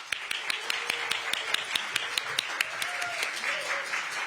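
An audience claps at the opening ceremony of a question campaign, a steady patter of moderate applause with distinct louder claps near the mic, while a voice speaks briefly underneath.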